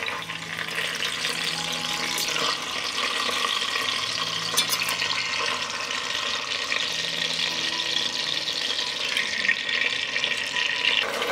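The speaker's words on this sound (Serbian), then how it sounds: "Na zagrejanu mast ispržit ću kilogram šnicle." Schnitzel, about a kilogram, frying in hot melted lard in a large pot: a steady, close sizzle and crackle holding at an even level the whole time, with no voices.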